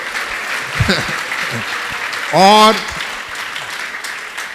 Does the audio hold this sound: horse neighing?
no